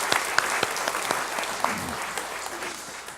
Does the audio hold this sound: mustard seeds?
no